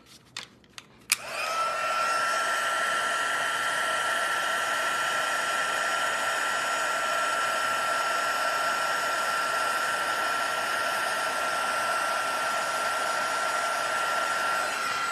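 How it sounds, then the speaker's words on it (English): A heat gun used for paper stamping crafts clicks on after a few faint taps, then blows hot air in a loud, steady, unbroken whir with a high whine that holds at constant level. "again, we're going to use the heat gun"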